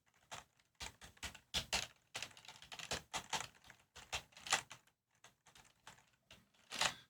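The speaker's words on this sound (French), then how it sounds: "si je suis silencieux et que je tapote un peu sur mon clavier" Quiet, close keyboard typing in irregular bursts of rapid taps, with short pauses between runs.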